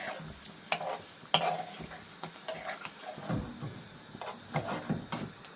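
Chicken jalfrezi ingredients are stirred in a hot pan, giving a steady sizzle and fry broken by sharp scrapes and clinks of the utensil, with no talk.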